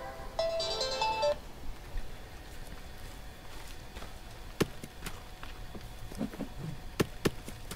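A telephone ringtone plays briefly near the start, a short bright electronic melody, followed by quiet outdoor forest sounds and scattered sharp knocks and footsteps; no voices.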